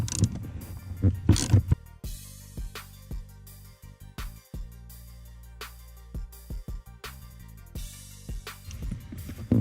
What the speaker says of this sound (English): So I'm going to use a 15mm socket, extension, and ratchet to remove the two nuts.